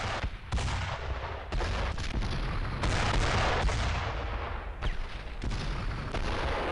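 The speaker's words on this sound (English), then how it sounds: "Those are Navy guns!" Naval gun bombardment in the Brothers in Arms video game, a continuous barrage of heavy booms and rumbling impacts, dense and loud, with distinct strong blasts every second or so over a constant roar.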